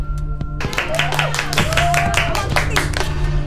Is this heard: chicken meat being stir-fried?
no